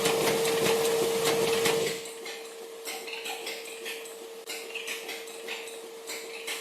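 An HP sheet-fed digital printing press running at 6,000 sheets gives a steady tonal whine over rapid rhythmic clicking and clattering, loud at first and then quieter but still busy and mechanical.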